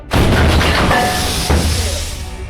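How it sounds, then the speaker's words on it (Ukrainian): A heavy artillery gun fires at enemy targets in the war in Ukraine near Bakhmut with a loud, deep boom, followed by a second thud and a long rumbling decay. "Наші артилеристи зараз будуть працювати по ворожим цілям"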